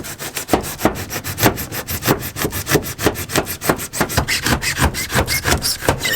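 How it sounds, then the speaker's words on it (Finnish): Hand saw drawn back and forth through urethane board, quick steady rasping strokes in a regular rhythm, close and loud throughout. "Mä vedän sahalla tän lopun"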